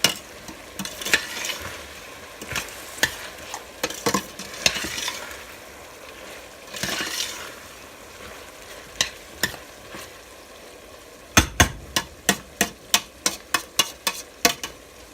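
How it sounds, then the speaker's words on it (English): Chili verde ingredients sizzle steadily in hot oil while a utensil scrapes and taps the pan, with a quick run of rapid clinks near the end. "So now it's gonna start frying."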